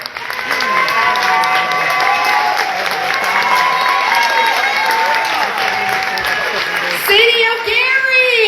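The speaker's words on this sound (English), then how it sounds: "You gotta clap your hands." Applause and clapping from a fashion show audience, loud and sustained, with cheering and crowd voices running under it and a voice speaking over the top near the end.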